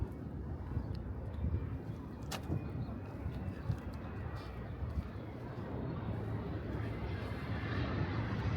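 Airplanes passing over a Queens, New York neighborhood on their landing approach, a steady low broad roar of jet engines that swells gradually and stays continuous over street ambience, with no talk.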